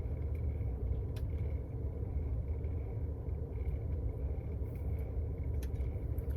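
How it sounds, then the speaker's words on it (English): Low road rumble from cars idling and rolling in traffic behind a vehicle, a steady muffled drone heard from inside the car, with no talking. "there's a car behind me that I guess cut the car that was originally behind me off"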